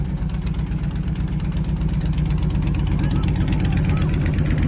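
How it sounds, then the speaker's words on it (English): A custom-built Batmobile's small engine runs steadily up close, a continuous chugging, buzzing drone much like a lawnmower tractor motor, loud and unbroken throughout. "Engine sounds like it's from lawnmower tractor."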